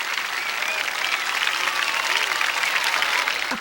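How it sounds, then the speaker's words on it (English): A large crowd at the Gateway Arch in St. Louis greeting President Carter, dense continuous clapping mixed with scattered whistles and cheers, heard as a broad steady roar throughout. "Before a cheering crowd that included some demonstrators"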